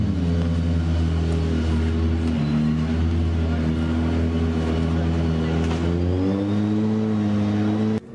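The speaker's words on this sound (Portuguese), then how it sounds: "O carro da Cristina está chegando" A Dakar rally car's engine drones loudly and steadily up close, its pitch dipping and then climbing as it revs on arrival, continuous throughout and cutting off sharply at the very end.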